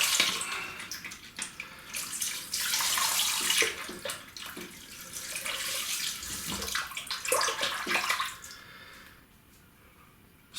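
Water running steadily into a container, a broad rushing splash that swells and fades with a few knocks and handling noises, then tapers off near the end.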